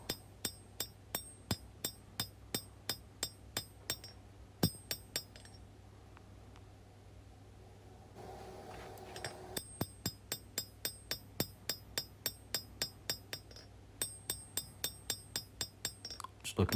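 Steady, rhythmic hammer blows ring out sharply on a steel chef's knife blade as its bevels are hand forged, each strike ringing off the anvil; a short pause comes midway before the strikes resume at the same pace.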